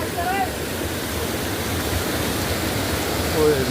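Chamanu waterfall in Tripura roars as a broad, steady rush of falling water over rocks, continuous and fairly close, with faint voices briefly audible over it.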